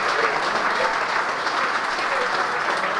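Steady applause from an audience at a school alumni association induction ceremony, a dense even clatter of many hands clapping for three seconds, with no voices.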